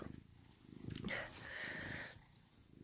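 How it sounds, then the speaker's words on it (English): A house cat purrs close by with a low, steady rumble, broken by brief rustling and a high chirp, while a person speaks intermittently over it. "Now the cat's trying to climb on me now too"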